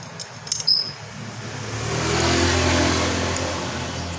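Motorcycle engine on a standard carburetor, with a couple of brief clicks at the start before the revs climb into a steady, fairly loud rising drone that holds and then eases slightly.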